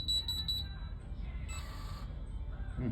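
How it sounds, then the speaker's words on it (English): An Alarm Lock Trilogy DL2700 electronic door lock gives a run of quick high beeps at the start, then a couple of fainter beeps over steady background hum. "I just got 6 beeps."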